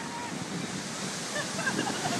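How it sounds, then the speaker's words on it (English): Ocean surf on a beach, a steady close wash of waves with wind rumble throughout, faint voices barely present. "We're on the beach."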